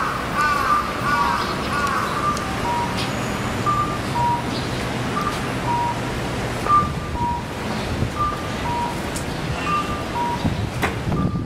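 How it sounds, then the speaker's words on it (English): Crows caw again and again at moderate distance outdoors near the Sapporo Clock Tower in Hokkaido, with sharp repeated calls over a steady wash of wind and ambient noise. "Beware of crows."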